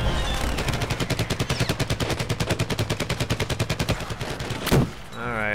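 Rapid automatic gunfire at enemies in Plants vs. Zombies: Garden Warfare, a long steady burst of evenly spaced shots that ends with a louder blast, followed by a brief warbling game sound.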